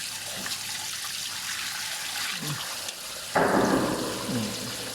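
Water gushing out of a water tank as it is drained during cleaning, a steady rushing splash that turns louder and fuller partway through, with faint voices in the background.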